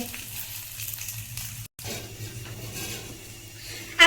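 A steady, soft sizzle of an aloo paratha frying on a hot griddle continues throughout, with a brief dropout and a small clatter at the end.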